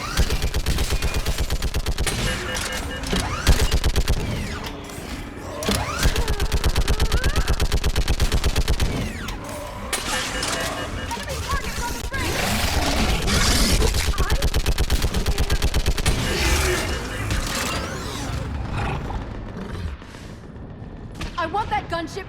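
Sustained gunfire in a Mass Effect battle on Thessia, rapid automatic bursts and heavy shots hammering almost continuously, loud and dense, with voices shouting orders over the fighting.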